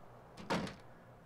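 A door swinging open in the video game The Long Dark, one short, fairly quiet creak-and-thud lasting about a quarter second against a still, near-silent background.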